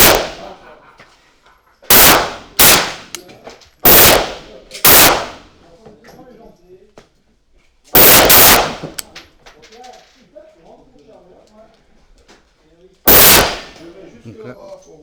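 Firearm shots ring out at a gun shop event, seven loud, sharp reports in irregular groups, some spaced closely, each cracking sharply and decaying quickly, with brief murmured voices in between.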